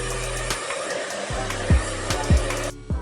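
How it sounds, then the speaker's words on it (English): Borrowed blow dryer heating plastic lamp parts, a steady loud whooshing hum with several low thumping bumps and a brief cut-out near the end. "It's a nice blow dryer."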